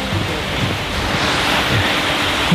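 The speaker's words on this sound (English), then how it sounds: "It's a beautiful waterfall there." A waterfall roars as a loud, steady broadband rush of falling water, mixed with some wind buffeting on the microphone.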